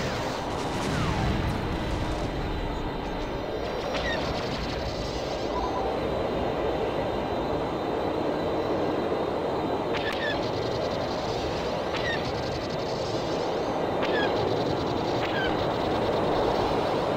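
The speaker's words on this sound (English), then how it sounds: "Careful, there's a recon bomber on your six!" A recon bomber in Star Wars Battlefront II roars past within steady, dense battle noise, with a few sharp, brief tones cutting through the rumble. No voices are heard.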